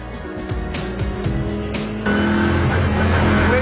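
Race car engine on a lap of the Le Mans 24 Hours circuit, loud and close, steady roar with gear changes and a sharp rise in intensity about halfway through.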